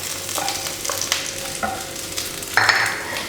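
A spatula stirs capsicum and beans frying in a pan, giving a few distinct scraping knocks over a soft background sizzle, close and alone.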